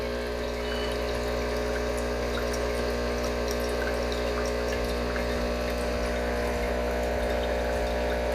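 A Breville Barista Pro espresso machine runs its pump during descaling, a steady loud mechanical hum with water flowing and trickling, continuous and close, with no voices.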